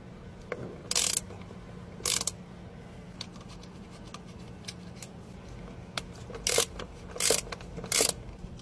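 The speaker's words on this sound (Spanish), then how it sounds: "Enseguida vamos a quitar estos dos tornillos." Two screws being backed out of a car's MAF sensor housing, giving soft mechanical clicking and ratcheting with several short, louder bursts of tool noise over a low steady hum, close by and with no talking.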